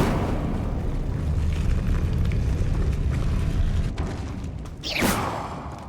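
An Incendio fire spell cast in Hogwarts Legacy produces a dense, roaring rumble that builds and then ends in a sharp, rising fiery whoosh, loud and without talk.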